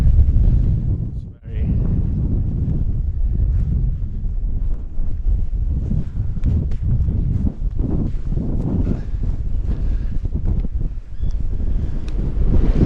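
Strong, steady wind roaring and buffeting the microphone at a tent spot near Hållö lighthouse, loud and constant with brief gusts and dips, no voices heard.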